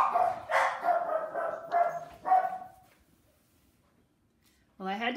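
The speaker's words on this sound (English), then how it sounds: "I had to make my silly dog stop barking." A pet dog barks in a rapid run of loud, close barks for about three seconds, then falls quiet before one more short burst at the end.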